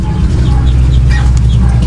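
Chickens in a small backyard farm, with young chicks and several roosters present, giving soft, scattered clucks over a steady low rumble of background noise.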